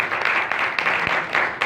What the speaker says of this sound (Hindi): खुदा के लिए एक बार फिर से जोरदार ताली